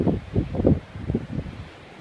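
Gusty, cold wind at Morro Strand State Beach, Morro Bay, buffets the microphone in low rumbling bursts, loud at first and easing off.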